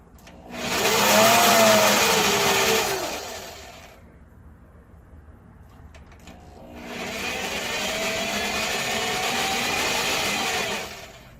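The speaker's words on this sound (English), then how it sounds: "we're going to go ahead and grind down a little bit on the inside, basically deburring up the coin so it has a real smooth feel to it" Rotary grinder deburring the inside of a silver coin ring made from a 1941 British two shilling florin, whining loudly in two long bursts separated by a brief quieter pause, with no talking.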